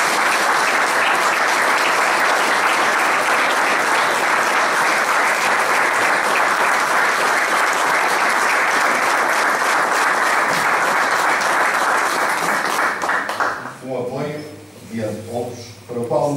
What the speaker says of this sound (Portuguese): Isto merece uma salva de palmas.